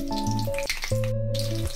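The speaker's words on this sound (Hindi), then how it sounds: "ये देखिए इस तरीके से बैगन फ्राई हो रहे हैं" Brinjal (eggplant) pieces frying in a pan, with a steady hiss of sizzling oil running underneath prominent sustained musical tones, and no talking.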